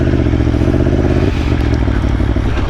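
An Aprilia Tuono V4 1100 Factory motorcycle fires up on its push-button starter and settles into a loud, close, steady throb with a slight shift in tone partway through.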